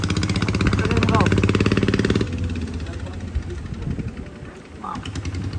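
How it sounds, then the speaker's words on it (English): A small boat engine on the water off Koh Lipe Island, Thailand, runs with a steady buzzing putter like a little motorcycle, loud and close at first, then fading as the boat pulls away while people talk nearby. "That engine sounds like a little motorcycle, eh?"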